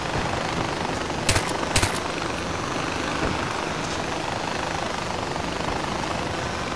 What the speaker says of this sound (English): there's a gunfight going on